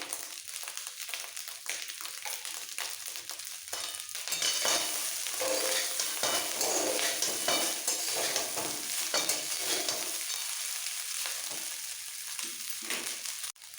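Basmati rice pulao being stirred and mixed in a frying pan, a steady scraping and stirring over continuous sizzling frying, growing louder after the first few seconds, with no talking.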